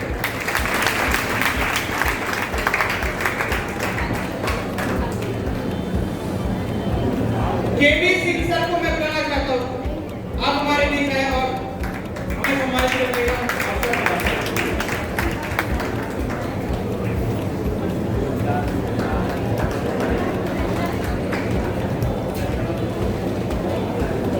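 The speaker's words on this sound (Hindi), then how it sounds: "बच्चों तालियां करो, कंजूसी तालियों में नहीं होनी चाहिए" Students at a school felicitation and career counselling event applaud loudly and steadily in a large crowd, with a voice speaking over the clapping partway through.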